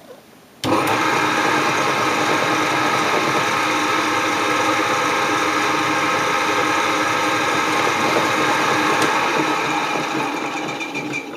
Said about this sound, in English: now I've chucked up a centerpiece, which I'm going to use to just drill, or just start my hole